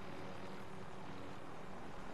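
Rotor and engine drone of a helicopter setting down in Call of Duty Warzone, a steady, dense broadband roar holding at even loudness throughout, with no talk.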